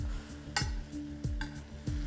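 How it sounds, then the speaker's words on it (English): Steak sizzles steadily in a pan as a spoon bastes it with pan juices, with rhythmic scraping scoops roughly every 0.6 seconds, close and alone. "Take a spoon, have all the juice to the side,"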